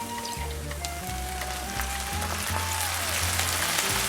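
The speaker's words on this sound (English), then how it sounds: "I'm just gonna deglaze with a little bit of balsamic vinegar." Onions sizzle steadily in a hot skillet as balsamic vinegar deglazes the pan, a dense, continuous crackling hiss that stays close and loud throughout without any talking.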